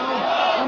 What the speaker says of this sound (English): The crowds chanted for the visiting Gorbachev, not for their own die-hard leaders.